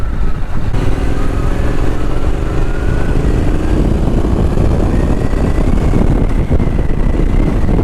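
A Triumph Street Scrambler is ridden at full throttle on country lanes, its engine a loud, close, continuous roar with rising pitch as it accelerates, steady for the whole stretch.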